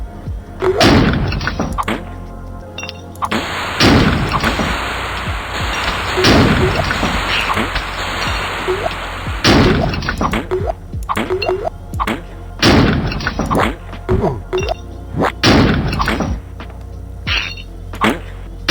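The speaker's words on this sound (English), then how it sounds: "Shoot the boulder!" Gunfire aimed at a boulder in the Flash game Amorphous+, heard as repeated loud thuds and booming impacts over a constant electronic game background, dense and continuous throughout.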